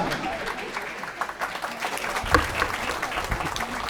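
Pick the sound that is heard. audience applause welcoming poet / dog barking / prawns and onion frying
audience applause welcoming poet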